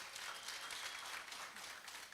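An audience at a savings cooperative's annual general meeting claps together, a dense, even wash of applause held at a moderate distance for a couple of seconds, with faint voices mixed beneath.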